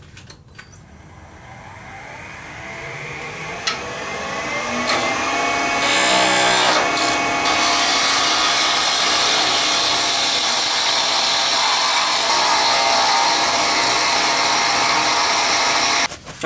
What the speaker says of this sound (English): I'm going to get this down to size close with a square carbide, the Easy Wood square carbide